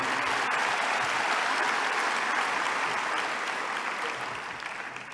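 An audience in an assembly hall applauds a colleague. Loud, dense clapping from many hands holds steady for several seconds, then thins and fades toward the end.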